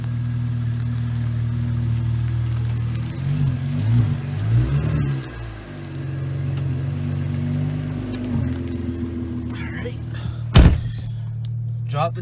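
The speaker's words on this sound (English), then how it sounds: "Drop the top." A 2017 Chevrolet Camaro convertible's power top retracts with a motorized whir over a steady idling engine, ending in a sharp thunk near the close; a voice speaks briefly.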